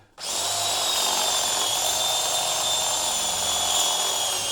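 A power tool reams out a hole in a rear body mount part clamped in a vise during rust repair on a 1973 Ford Ranchero GT, a steady, loud high-pitched whine that runs on without a break.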